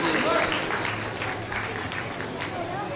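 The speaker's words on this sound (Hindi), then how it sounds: "जरा तालियों की आवाज़ बुलंद कर दीजिए।" A school award ceremony crowd claps for a young girl leaving the stage after receiving a best award, a dense, moderately loud patter of hands that continues evenly throughout.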